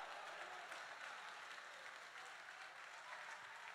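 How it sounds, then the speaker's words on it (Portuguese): A church congregation at a Pentecostal service applauds in praise, with even, continuous clapping that sounds fairly distant and soft and runs steadily throughout. "Então adora e aplauda o nome de Jesus Cristo, dando glória."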